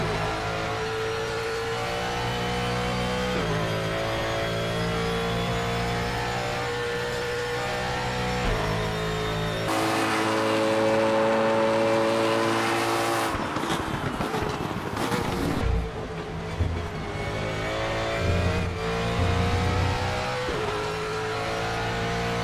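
A car's engine revs and drones steadily in the RaceRoom racing game, shifting pitch through gear changes with a brief lull partway through. It is loud and continuous, with no talking.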